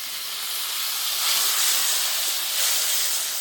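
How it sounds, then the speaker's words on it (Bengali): Water splashed into masala frying with turmeric and salt in a pan, for a Bengali fish curry with prawns, shapla stems and pangas: a loud steady hiss of sizzling steam that swells twice, with no talking. "আমি এখানে মশলাটা কষার জন্য অল্প করে জল দেবো"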